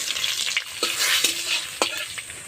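Bay leaf, dried red chili, cumin and green chili sizzle in hot mustard oil in a wok, giving a close, continuous crackling hiss broken by several short spatula scrapes.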